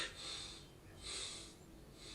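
A person sniffs the air in two short, soft inhaled breaths, quiet and close, with a pause between them.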